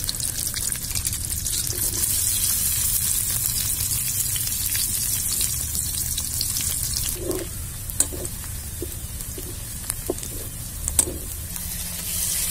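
Onions frying in oil in an outdoor village kitchen, a steady sizzle with watery crackle running throughout, with a few brief stirring clinks near the end.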